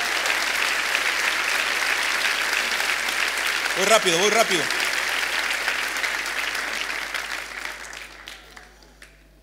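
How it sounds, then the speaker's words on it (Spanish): A church congregation claps loudly and steadily, a dense wash of applause that gradually thins and fades out, while a voice speaks briefly in the middle of it. "Dale aplausos fuertes."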